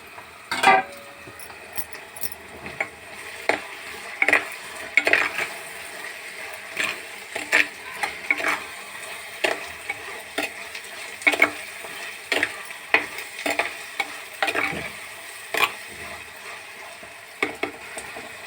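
Tomato pieces and okra with onions and green chilies fry in oil in a pan, a low background sizzle broken by a steady series of sharp spatula scrapes and taps against the pan; close, no talking.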